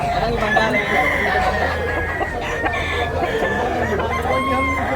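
A rooster crows amid a busy chicken market in Tabunok, Cebu, on a rainy day, the call drawn out over constant clucking, crowd chatter and background din.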